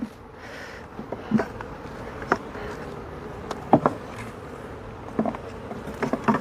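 Honeybees at a hive in an apiary fill the air with steady, low buzzing, with scattered clicks and knocks rising above it close by.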